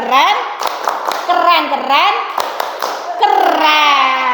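Schoolchildren in an Indonesian classroom clap a rhythmic chant-style cheer, sharp hand claps mixed with their young voices calling out together, close and lively throughout.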